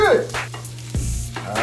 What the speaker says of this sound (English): Onions is cooking up good.